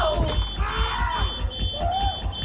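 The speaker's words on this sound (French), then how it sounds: "Ils ont alors déclenché l'alarme incendie." A prison fire alarm sounds as a steady high-pitched beeping buzzer in regular pulses, ringing continuously under loud overlapping voices and commotion.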